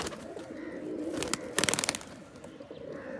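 Rajshahi giribaz high-flying pigeons cooing in low, throaty murmurs, with a cluster of sharper bird calls and flutters rising briefly in the middle before settling back to a steady nearby coo.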